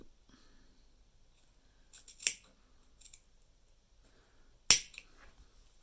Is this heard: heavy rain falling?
no